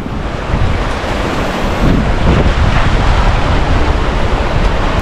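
Stormy sea on the Norwegian coast: loud, continuous roar of crashing waves and surf with heavy wind buffeting the microphone, no voices.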